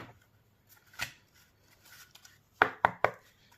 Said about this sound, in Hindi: और थोड़े कार्ड्स निकाल लेती हूँ।